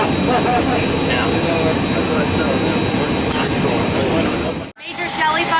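A 1964 KC-135 tanker's jet engines roar loud and steady at close range, a dense continuous wash of noise that drops out abruptly near the end before a different, quieter engine sound picks up.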